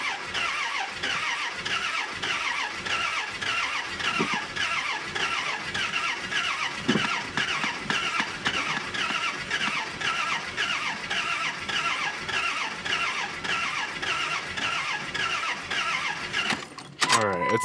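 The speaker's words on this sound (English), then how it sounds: "Oh, looks like it wants to start." A car bought at auction cranks over and over with a steady rhythmic churn after its fuel pump primes, never catching; the cranking stays close and loud for the whole stretch, with a voice talking over it.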